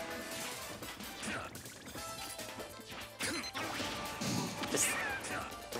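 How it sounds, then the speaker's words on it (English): Grenade explosion during a Super Smash Bros. Ultimate singles match, heard as a loud crash and burst amid dense game effects and continuous commentary. "God, these grenades."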